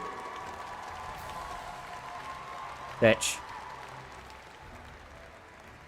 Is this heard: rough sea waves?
no